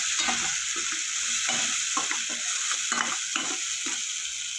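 Masala spiced with Kashmiri chili powder frying in a pan for a rohu fish curry, giving a steady close sizzle broken by repeated scraping stirs.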